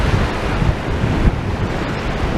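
Waves crash and wind buffets the microphone on Blackpool beach as the tide comes in. The roar is loud, dense and constant throughout, with no speech.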